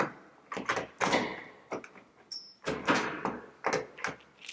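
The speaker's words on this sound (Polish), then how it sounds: "Wkładamy wkładkę do środka" A metal lock cylinder insert slides into the bore of a worn door during a WE.LOCK smart lock installation, giving a series of close scraping, knocking and clicking bursts with a short metallic ping partway through.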